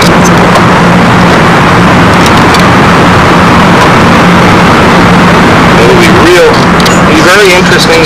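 A model airplane's 91 four-stroke engine drones loudly and steadily at close range, a thick buzzing roar that stays even throughout, while someone talks over it.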